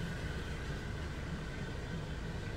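A passing train rumbles as a steady, broadband roar with a faint sustained tone, heard continuously and close for a few seconds.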